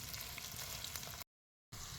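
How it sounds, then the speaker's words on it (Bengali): Onions sizzle steadily in a pan, a dense frying crackle heard close up that cuts to a brief silence before resuming. "পেঁয়াজ ভাজাটা মোটামুটি কমপ্লিটের মুখে।"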